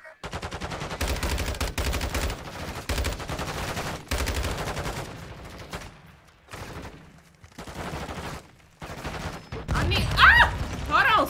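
Bursts of gunfire in Call of Duty Modern Warfare 2 during an online match, loud and choppy with several clusters of shots separated by short gaps, mixed with game effects.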